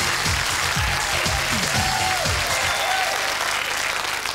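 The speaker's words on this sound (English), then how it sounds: "Give them a nice round of applause" Studio audience applauding steadily on a 1991 Sky One dating game show, dense sustained clapping with a few louder hand claps and faint whistles over the top.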